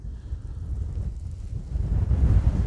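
Strong wind buffets the microphone in an open field of no-till winter rapeseed, a steady low roaring rumble that swells louder toward the end, with no other sounds.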